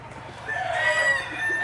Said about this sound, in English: Oh, roosters are funny.